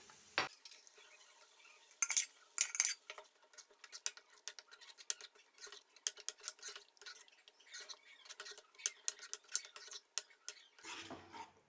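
Mashed vegetables being stirred into spices in a pan for homemade pav bhaji, with a steady run of quick scraping and clinking spoon strokes, fairly close and quiet, no talking.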